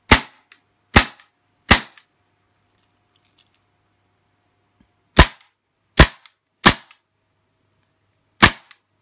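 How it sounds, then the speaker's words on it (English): A WE M712 gas airsoft pistol fires single semi-automatic shots with no BBs loaded: about eight sharp, loud cracks spaced irregularly, with a quiet gap in the middle and faint mechanical clicks after some shots. "let's just see it shoot in semi-automatic"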